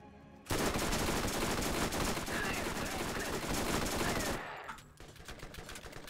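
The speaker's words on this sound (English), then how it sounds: "Yeah, this SMG's not bad actually." Sustained rapid SMG fire in the Borderlands shooter game, a dense continuous burst lasting several seconds before cutting off, followed by quieter scattered game sounds.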